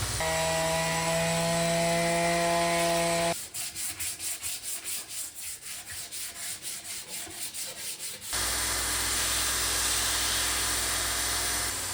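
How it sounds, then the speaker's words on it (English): Palm sander working over a wooden axe handle, a steady loud motor whine with a broad abrasive hiss, broken midway by a stretch of rhythmic hand-rubbing strokes before the sander resumes alone. "Now I think it's all palm sander."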